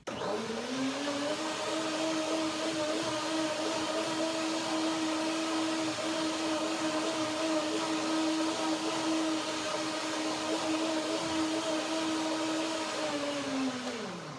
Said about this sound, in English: And the second blending makes it really creamy.